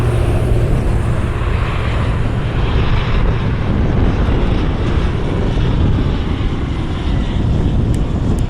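A Southwest Airlines Boeing 737 in the new Nevada One livery lands at Cleveland Hopkins, its jet engines producing a loud, steady broadband roar with heavy wind buffeting on the microphone, unbroken for the whole stretch.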